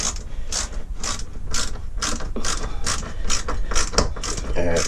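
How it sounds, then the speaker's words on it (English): A ratchet screwdriver driving decking screws into wooden blocks for a raised garden bed, giving rapid, regular clicking ratchet strokes close by, alone without speech. "I'm just screwing these blocks onto here, just using these decking screws. I'm just using my ratchet screwdriver."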